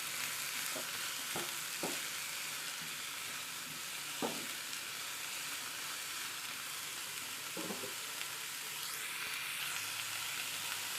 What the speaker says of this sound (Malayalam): നന്നായിട്ട് മിക്സ് ചെയ്ത് കൊടുക്കണം കേട്ടോ.